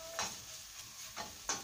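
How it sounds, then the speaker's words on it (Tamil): Dried tomato vathal crackles in hot oil in a kadai, giving a few sharp, faint sizzling pops spaced apart against a quiet background. "இந்த வத்தலில் உள்ள தண்ணி எப்படி சத்தம் வச்சுக்கு பாருங்க"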